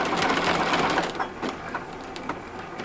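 A sewing machine stitches a feather stitch on fabric with a steady, close mechanical whir and rapid needle clatter that continues throughout.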